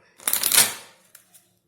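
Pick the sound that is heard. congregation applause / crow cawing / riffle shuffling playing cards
riffle shuffling playing cards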